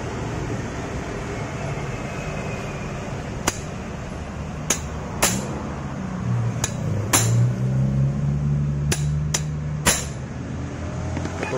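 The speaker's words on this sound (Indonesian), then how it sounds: "Lalu saya menggunakan bantuan obeng ketok ya" Hammer blows on an impact screwdriver to loosen a worn, stripped hex bolt on a motorcycle part, with sharp metallic strikes at uneven intervals over a loud, steady background rumble.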